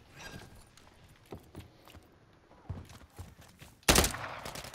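Shotgun fire in a multiplayer shooter match on the Favela map: scattered distant gunshots, then one loud close blast near the end over low background game noise and faint voice callouts.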